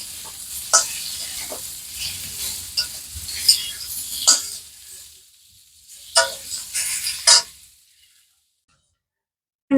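Kohlrabi hits hot oil in a wok, giving intermittent sizzling and stirring crackles in short bursts. The sound fades to near silence toward the end.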